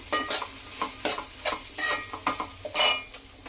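Ginger garlic paste fries in a pan for egg fried rice, with a spoon stirring in a series of separate scraping strokes over a soft, low sizzle and no voices.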